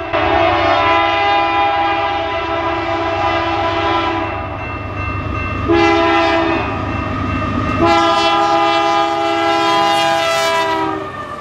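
BNSF 716, a locomotive in red and silver Warbonnet paint on the Marceline Subdivision near La Plata, Missouri, passes close by, sounding loud sustained horn blasts over the steady rumble of the train.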